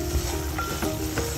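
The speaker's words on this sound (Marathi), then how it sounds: "छान आपण बदामी कलरवर, सोनेरी कलरवर भाजून घेऊया" Semolina for Satyanarayan puja prasad roasts in a pan, giving a brief, soft sizzle with light stirring scrapes.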